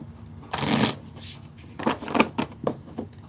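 Tarot cards are shuffled by hand, giving a long riffling burst followed by a string of shorter flicking and tapping shuffles, close and fairly loud with no voice.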